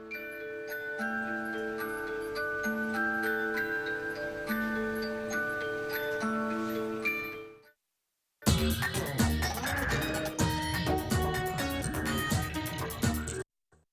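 Traditional German cuckoo clocks tick steadily during a test run, with a sustained musical tone under the first half, a brief silence, then a denser mix of many ticking clocks.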